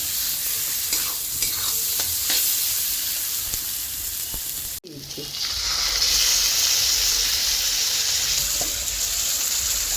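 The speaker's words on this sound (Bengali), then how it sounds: "আজকে দেখো মশলাটা কষাচ্ছি" Spice paste with coconut milk sizzles and bubbles steadily in a pan for prawn curry, with stirring scrapes; a brief break midway, then the frying hiss returns close and loud.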